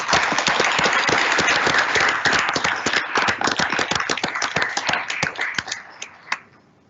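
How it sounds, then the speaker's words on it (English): Applause from a school board meeting audience, dense clapping that fills the room steadily and then thins out into a few scattered claps before fading away. "Let's give ALI one more round of applause"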